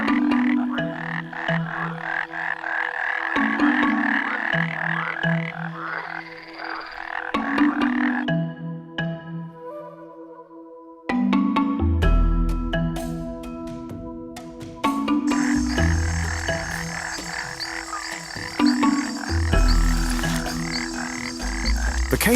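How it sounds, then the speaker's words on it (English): Cane toad, a large terrestrial toad native to South and Central America and a pest in northern Australia, croaking loudly in steady layered bursts with overlapping calls throughout, no talking. "The cane toad is a large terrestrial toad native to South and Central America"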